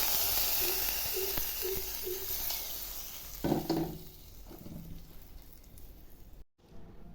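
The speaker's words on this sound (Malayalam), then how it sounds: "കടുക് വറുത്ത് ഒഴിച്ച് കൊടുക്കാം." Hot oil with fried mustard seeds, curry leaves, shallots and dried red chillies is poured into an Angamaly-style mango curry, giving a sudden loud sizzle that hisses and fades. Softer stirring and clinking follow.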